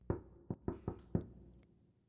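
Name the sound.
knocking on a cabinet door, audiobook effect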